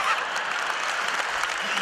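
An audience applauds at a stage performance, a dense, steady wash of clapping that fills the whole moment at close range.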